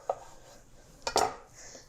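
A knife cutting limes in half on a kitchen board, two short chopping knocks with a slight clatter, close and fairly quiet, spaced about a second apart.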